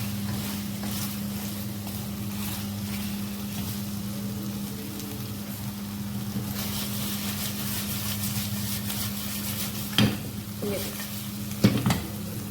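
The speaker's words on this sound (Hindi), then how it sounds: "1 से 2 मिनट इसको हम इसके अंदर फ्राई करेंगे।" Korean chicken wings sprinkled with white sesame seeds fry in hot oil with a steady, close crackling sizzle, occasionally stirred, with a few sharper clatters near the end and no talking.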